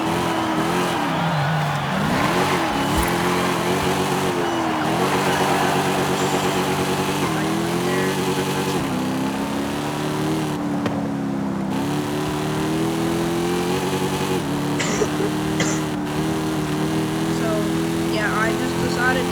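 A hand-built custom car in Forza Horizon 5 runs loud and continuous, its engine pitch climbing and dropping through repeated gear shifts and revs over nearly twenty seconds.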